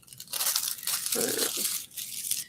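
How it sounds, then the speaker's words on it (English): Tissue paper being crumpled for paper flowers gives close, continuous crinkling and rustling that runs through the whole stretch without a pause. "Tissue paper is great, but once you crumple it, it kind of doesn't want to go back."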